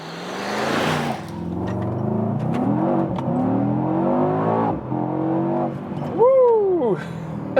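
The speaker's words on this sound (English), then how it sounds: "this was a very nice acceleration and also a good old V8 sound" A 2022 Mercedes E63 S AMG facelift's V8 engine accelerates hard, its deep rumbling note rising in pitch through successive gear changes, close and loud, ending with a quick upward rev.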